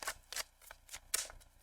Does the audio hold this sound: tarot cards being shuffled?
yes